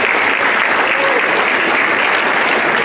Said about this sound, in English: So let me just give a round of applause.